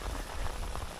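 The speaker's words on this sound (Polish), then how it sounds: "To deszcz pada." Rain falling outdoors during a fishing outing on the Vistula river, a brief steady patter of drops on surfaces with no talk over it.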